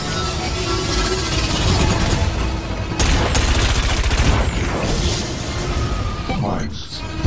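Cannon weapon firing in the futuristic racing game WipEout Omega Collection: a rapid, continuous volley of loud shots over racing engine noise, with an announcer's voice speaking over the gunfire.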